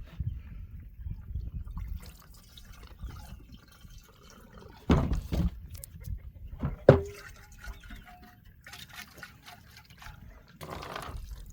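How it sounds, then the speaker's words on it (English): Water sloshes and trickles in bursts while a gas tank from an old concrete mixer is rinsed, with quiet dripping between a few louder splashes and knocks. "Let's give her another rinse."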